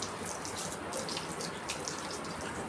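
Water gushes steadily from a pipe during a bath on a very hot day, a loud continuous splashing rush with no break and no talking.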